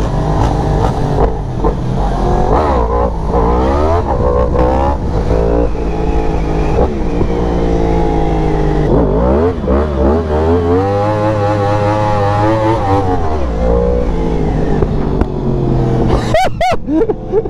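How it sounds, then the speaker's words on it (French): Several 125cc motorbikes rev hard and spin through burnouts during a Santa gathering in Marseille, engines wailing up and down in loud, overlapping sweeps with a sharp rising scream near the end. "Avec 125 qui vont burner, rupter."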